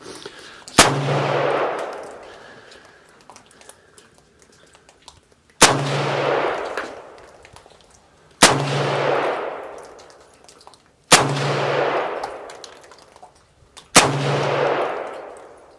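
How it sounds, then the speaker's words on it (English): Five loud, sharp rifle shots from a WASR-10 Cugir Romanian AK-47, spaced a few seconds apart, each one followed by a long ringing echo that decays slowly, with no talking between them. "going to take a few shots here and see how she runs"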